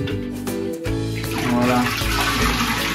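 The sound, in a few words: water poured from a container for a cold bucket shower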